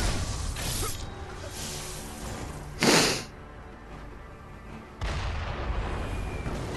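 An enemy cannon fires in the video game Sekiro, a sharp, loud boom about midway that decays over half a second, followed by a second heavy blast that leaves a sustained rumble.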